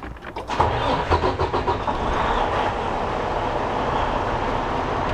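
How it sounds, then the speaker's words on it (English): A Freightliner Cascadia truck's diesel engine is cranked with a rapid, rhythmic starter churn, then catches and settles into a loud, steady idle close by, with no talk. "So we have to start the engine."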